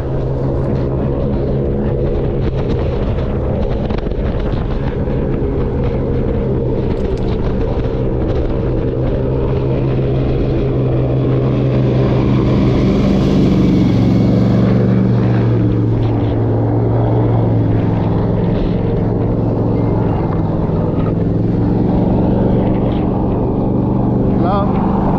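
A fan boat's engine and propeller drone steadily and loudly, the roar swelling as the boat approaches through a marsh, with a voice talking over it throughout.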